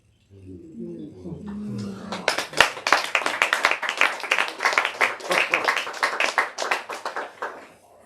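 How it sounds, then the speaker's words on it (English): A crowd at a poetry reading breaks into steady, lively applause that swells and fades, following a brief murmur of voices. "The applause is also not required after each poem."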